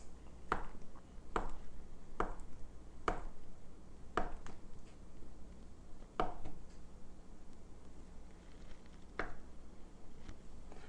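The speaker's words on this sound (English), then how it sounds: "I'm just going to cube this butter." A knife cuts butter into cubes on a board, making a series of soft, fairly even thuds and taps a second or so apart, close and quiet.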